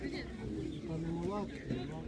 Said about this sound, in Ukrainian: Так, є голуби